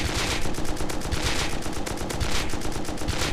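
Rapid automatic rifle fire in the survival game Rust, sprayed in a dense, continuous stream of sharp cracks that runs loud and close for the whole stretch.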